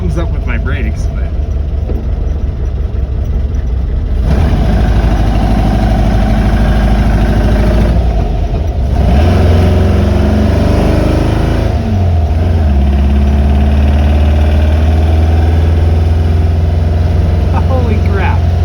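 A 1967 Volkswagen Fastback with brake trouble runs loud and close while being driven, its air-cooled engine droning and shifting in pitch as it revs and settles. A person speaks over it.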